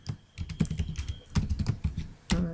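Computer keyboard typing out an SQL query, a steady run of close, crisp keystrokes in bursts with brief pauses and a final flurry, no voice.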